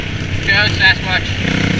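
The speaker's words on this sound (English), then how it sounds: "me revving my dirt bike is not the right Sasquatch call" A dirt bike engine revs in a steady, rough drone with a brief swell in the middle, heard close up outdoors on a trail.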